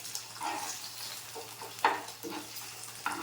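Spinach and egg frying in a home pan, a soft steady sizzle broken by several louder scraping stirs, moderately close, with no voices.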